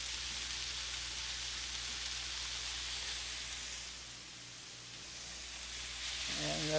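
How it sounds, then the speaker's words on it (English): Steady broadband sizzling of chicken frying in a hot skillet, continuous and fairly close, easing briefly before swelling again. "Those are sizzling nicely."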